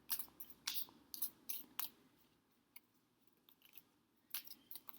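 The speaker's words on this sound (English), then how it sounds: "I'm just shuffling" Soft, quiet tarot card shuffling: brief crisp riffles and slaps in irregular bursts, close by, with faint rustling between them.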